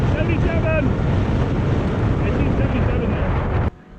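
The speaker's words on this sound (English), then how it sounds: "We're going against the wind" Heavy wind buffets the microphone in a loud, continuous roar while riding a Talaria Sting electric bike into a headwind, with faint voices underneath before the rush drops off abruptly at the end.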